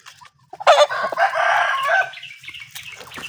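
A rooster crows one loud, close cock-a-doodle-doo, with scattered softer clucks and other fowl calls around it and quiet chatter underneath.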